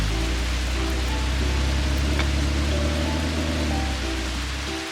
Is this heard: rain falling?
yes